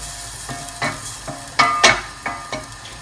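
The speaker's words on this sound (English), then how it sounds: "You're going to melt down all of the butter." Butter melting in a pan for a broccoli and Stilton soup, heard as a series of short scraping stirs and sizzling bursts spaced about half a second apart, close and moderately loud, with no talk.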